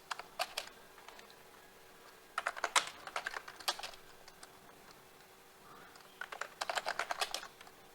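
Fingers typing on a computer keyboard in bursts of quick, light clicks separated by short pauses, fairly close and quiet over a faint steady room hum, with no talking.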